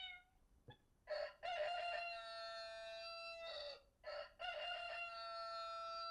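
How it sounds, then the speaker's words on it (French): A pre-recorded rooster crow from an AnyBook reader's sound effects, a brief click followed by two long, bright cock-a-doodle-doo calls in quick succession, heard alone. "le coq,"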